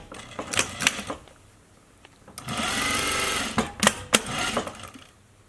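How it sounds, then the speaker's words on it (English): A sewing machine stitches a half-inch seam through cotton face mask fabric in short bursts of fast mechanical whirring, with clicks and handling noises between the runs, close and alone. "Right side to right side, and we're gonna stitch this together, 1/2 inch seam allowance."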